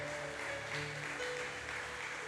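A church congregation applauding during a Sunday service: soft, diffuse clapping from a crowd, fairly faint and short, blended with low sustained tones from instruments or room sound.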